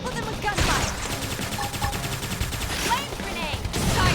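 Rapid bursts of gunfire from a squad battle in Xenoblade Chronicles X, crackling continuously over layered combat effects and music, with voices calling out amid the fight.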